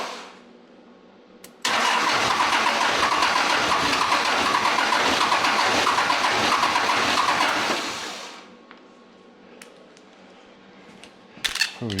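A Cummins diesel swapped into a 1983 square body cab-and-chassis truck in a shop cranks briefly, then catches and runs loudly with a rough clatter for about six seconds before shutting down, followed by faint clicks.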